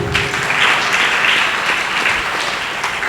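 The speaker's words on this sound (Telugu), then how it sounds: "గట్టి చప్పట్లు కొట్టి దేవుని స్తుతిద్దాం" A church congregation claps loudly in praise, a dense, sustained burst of many hands clapping at once, filling the whole stretch evenly without any talk.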